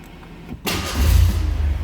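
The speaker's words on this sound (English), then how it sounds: "I want to go ahead and fire this up so you can hear it run" After a brief quiet moment, the engine of a 1952 MG TD roadster replica cranks and catches, then settles into a loud, steady idle.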